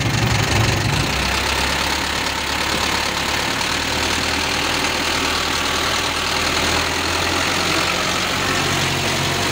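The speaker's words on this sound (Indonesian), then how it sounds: "Oke, kita naikkan gasnya terlebih dahulu." Car engine running steadily after jumper cables are removed from the battery, a continuous loud idle-to-raised rumble with a brief heavier surge at the start and no talking.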